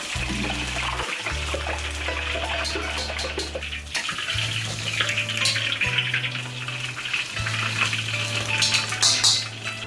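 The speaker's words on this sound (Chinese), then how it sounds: "把炸好的鱼块用漏槽捞出来，控油" Golden fried fish pieces are lifted from hot oil with a slotted ladle, soft sizzling and dripping oil under scraping metal clinks against the wok, with a steady low hum from the stove's burner running throughout.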